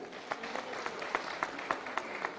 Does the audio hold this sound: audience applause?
yes